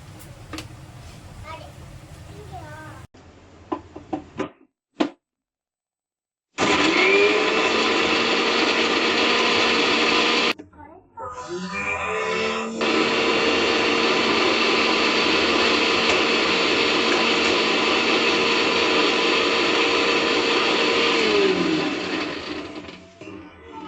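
A mixer grinder grinds ginger, green chillies and coriander for a dry prawn gravy, whirring loudly in one long steady run after a few short bursts, with brief pauses between them.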